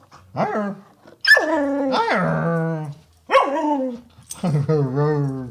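A dog lets out a series of drawn-out, wavering howls and yips, loud and close, in four separate bursts with short pauses between them.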